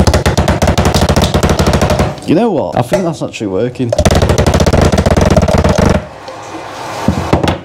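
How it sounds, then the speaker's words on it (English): A hammer's bottom end pounds a Coke can flat, giving rapid, loud, metallic blows in fast bursts close by, broken by a short pause where a person speaks. "I'm just going to use the bottom end of this hammer"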